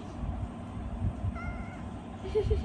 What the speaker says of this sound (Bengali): একটা কালো বিলাই, একটা কালো বিলাই।